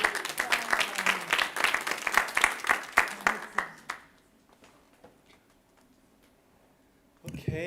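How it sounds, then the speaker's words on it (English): A room of listeners claps for an intern from Brigham Young University at summer intern final presentations, a dense burst of hand claps lasting about four seconds before fading to near silence, with a brief noise returning at the end. "Round of applause for Chris."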